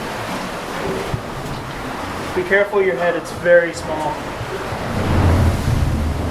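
Ocean waves surging inside a slippery sea cave, a constant deep rushing roar that swells louder toward the end, as several people talk over it close to the microphone.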